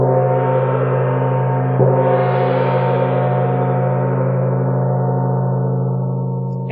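A metal gong struck with the pointed tip of a beater gives a second stroke that swells into a long, shimmering, sustained wash, loud and close, slowly fading.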